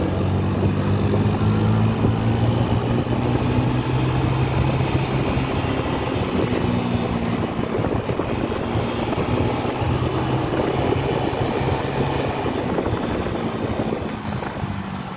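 A Honda Vario 125 CBS scooter engine hums steadily while accelerating, its drone holding even and fairly loud throughout with slowly shifting pitch and no talk.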